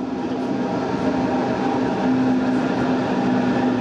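A rolling iron ore train in northern Sweden rumbles past in a continuous, loud drone with a steady metallic whine, close and unbroken for a few seconds, with no voices.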